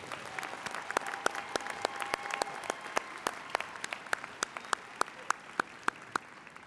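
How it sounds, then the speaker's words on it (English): A commencement audience applauds eight doctoral graduates at the University of Houston–Clear Lake: thin, moderate clapping runs throughout, with individual sharp claps standing out near the microphone and no speech. "please join me in another round of applause for these 8 doctoral graduates"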